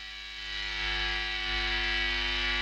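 Steady electrical hum and hiss from a Synergy 2CP amp module, a buzzing drone with stacked harmonics and bright broadband noise that swells slightly, faint and unbroken with no talk.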